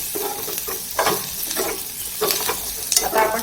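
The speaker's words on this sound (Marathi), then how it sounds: "आता आपण चांगलं तांबूस रंग होईपर्यंत चांगलं परतून घेऊयात." Grated coconut and whole spices are stirred in a pan, giving a steady sizzle broken by periodic scraping strokes of a spoon, close and continuous with no talk.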